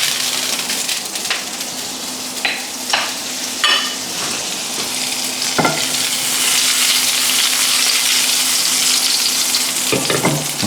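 Butter and olive oil sizzle steadily in a pan just used to fry fish, a loud, continuous frying hiss with a few sharper crackles and pops throughout, no voices.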